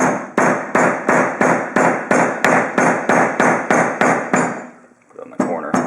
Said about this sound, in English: this cable is starting to really get flattened out where I've been hitting it